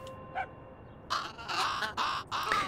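Crows caw in the video game Little Kitty, Big City, a faint early chirp followed by a run of four loud, raspy caws in quick succession over quiet ambience.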